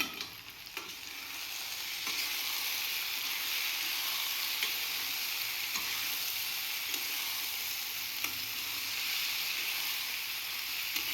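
Brinjal curry stirred in a pan, a steady broadband sizzle running throughout with occasional soft scrapes of the spoon, close and fairly loud with no voices.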